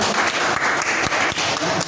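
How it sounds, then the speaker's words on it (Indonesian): Steady audience applause at a school event on positive-culture dissemination, dense clapping filling the whole moment at close range with no talk over it. "tepuk tangan sekali lagi untuk kita semua"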